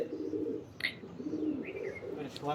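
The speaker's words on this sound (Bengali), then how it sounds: "দুইটা নরি কি সুন্দর ডাকতেছে" Two male Swachandan pigeons coo on a rooftop aviary, a low rolling warble repeating closely, with a few sharper chirps and rustles mixed in.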